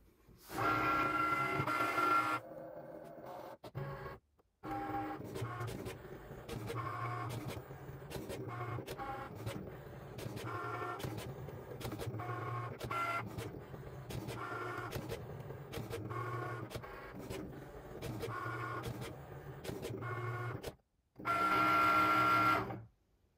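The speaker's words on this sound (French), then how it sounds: "je lance la découpe dès que le bouton Cricut clignote" A Cricut Maker cutting machine slices fabric pattern pieces with a rhythmic whirring and clicking as its carriage shuttles back and forth. The sound is moderately close and continuous, with a louder motor burst at the start and again at the end.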